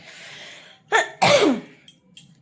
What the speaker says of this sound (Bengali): স্নান করে আসার পর না কাশিটা বাড়ে।